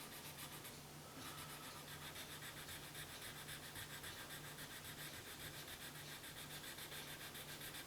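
A Gibson Les Paul guitar body being hand-sanded with very light pressure, giving a steady, continuous soft rubbing hiss that runs without pause, close and low in level, with no talking.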